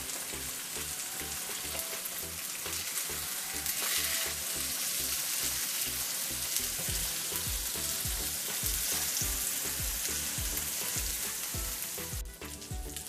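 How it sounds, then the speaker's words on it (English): Salmon fillet seasoned with rosemary and garlic fries skin-side down in oil in a pan, a loud steady sizzle and crackle close by with faint stirring or scraping. "our fish is cooking for one side for 5 minutes"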